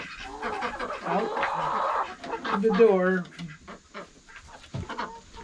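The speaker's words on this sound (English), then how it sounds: "All right, chickens and ducks, time to go. Look at all these chickens." Chickens and ducks clucking and squawking at a coop, a busy close chorus of calls and a rising squawk, while a person talks over them.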